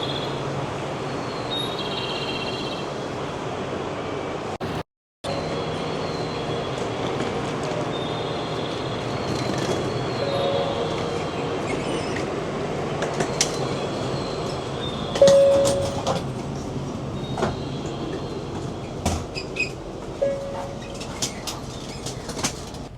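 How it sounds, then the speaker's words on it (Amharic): Steady rumble inside a moving bullet train between Nagasaki and Hiroshima. Brief squeals and clicks occur late on, and there is a short cut-out near the start. "ግን በጣም በአጭር ሰዓት ነው የምንደርሰው በዚህ ባቡር አማካኝነት"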